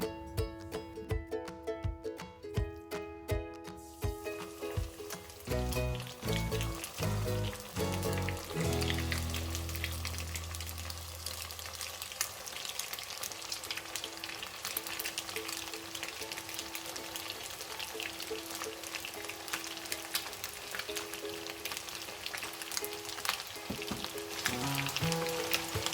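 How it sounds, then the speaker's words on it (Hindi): Egg batter, street-style Egg 65 pieces, deep-frying in hot oil over a medium-high flame, giving a dense, steady crackling sizzle that starts with a loud burst and continues evenly throughout. "अब हम इसे फ्राई करते हैं। ऑयल हमारा गर्म हो गया है"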